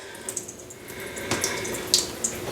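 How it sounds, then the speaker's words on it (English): Water is poured out into a sink, a short splashing gush with a few brief bright splatters, heard alone without any voices. "I'm going to go ahead and dump this water."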